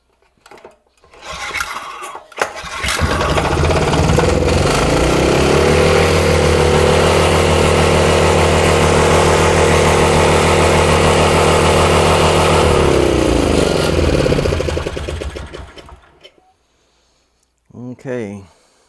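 A Honda E1500 generator's small engine sputters, catches and runs loud and steady at a high, even speed for several seconds before cutting out.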